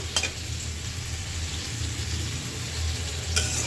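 Meat frying in a pan as broth is added, a steady close sizzle with a brief stronger burst at the start and again near the end, with no talking.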